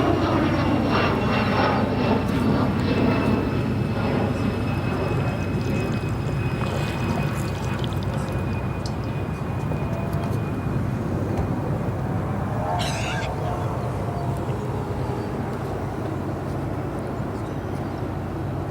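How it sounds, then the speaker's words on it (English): An Atlas Air Boeing 747-8 arriving at O'Hare, a loud continuous jet engine roar and rumble at steady strength, with a faint whine fading out partway through. "we have Atlas Air, flight 8104. A 747-8 arriving in from Anchorage"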